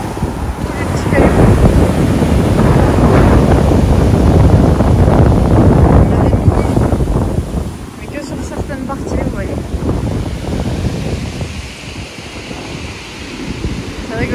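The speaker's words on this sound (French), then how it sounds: "Regardez tous les cailloux que la mer elle rejette." Sea waves wash onto a pebbly shore, a loud continuous rushing roar with wind buffeting the microphone that eases midway, and a voice speaks over it.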